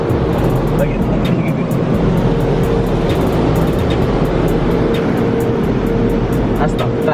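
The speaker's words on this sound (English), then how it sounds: "That's the fastest car wash we got." Automatic car wash running, a loud continuous broadband roar of spraying water and machinery with steady rhythmic ticking on top, close and unbroken throughout.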